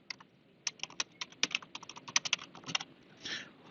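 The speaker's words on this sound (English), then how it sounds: "I'm going to go in here and type in back to school night." A computer keyboard is typed on up close in a quiet room, a quick irregular run of crisp key clicks with brief pauses and a softer rustle near the end.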